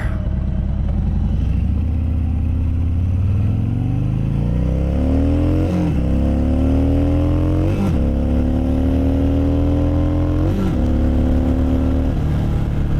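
A motorcycle engine revs up through several rising gear shifts, loud and close, with a deep throaty rumble throughout and no talking.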